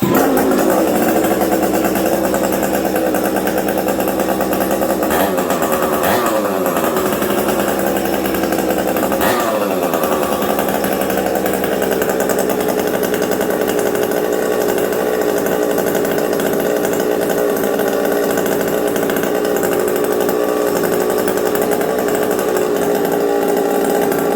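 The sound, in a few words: chainsaw starting and running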